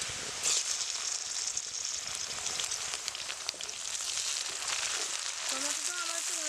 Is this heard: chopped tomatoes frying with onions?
yes